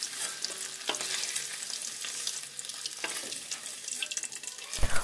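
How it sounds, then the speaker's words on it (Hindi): Paneer pieces fry in hot refined oil in a kadhai, giving a steady sizzle with occasional stirring clicks and a brief louder clatter near the end, close and without voices. "तेल के अच्छे से गर्म हो जाने पर इसमें छोटे पीसेस में कट किए हुए पनीर को डाल देंगे"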